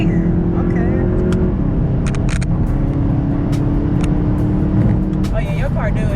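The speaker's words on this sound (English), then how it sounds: "you'll hear the turbo already spooling up" Turbocharged Volkswagen GTI engine revving under load with the turbo spooling, a steady loud drone throughout, while people talk excitedly over it inside the car.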